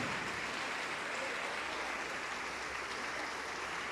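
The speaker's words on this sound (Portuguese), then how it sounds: "Vamos aplaudir mais, igreja, vamos aplaudir mais." A church congregation applauds in a large hall, producing dense, steady clapping that holds at an even level without pause and with no voices on top.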